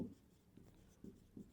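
A pen scratches across paper in a few short, quiet strokes while a math problem is being written out, close and faint with no talk.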